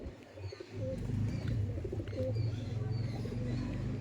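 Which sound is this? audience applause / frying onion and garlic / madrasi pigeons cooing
madrasi pigeons cooing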